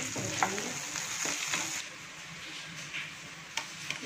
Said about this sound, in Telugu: ఇప్పుడు ఇవి వేగుతూ ఉన్నాయి కదా,